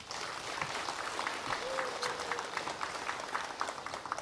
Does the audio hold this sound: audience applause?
yes